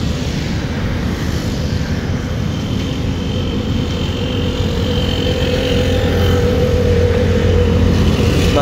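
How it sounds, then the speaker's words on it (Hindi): Road traffic streams past near the Shahdara flyover, with a continuous loud roar of engines and tyres and no clear talking. "बाकी सारी ट्रैफिक आप देख रहे हैं ये सारी आ रही है शाहदरा फ्लाईओवर वाली साइड से"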